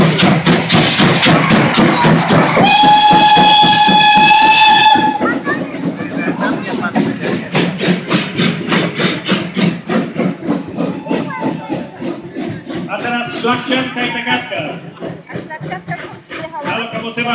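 A Skoda-built steam locomotive at a steam locomotive parade in Wolsztyn lets off a loud, close roar of hissing steam, with a brief whistle-like tone early on, then continuing puffing and rumble while a commentator talks over it.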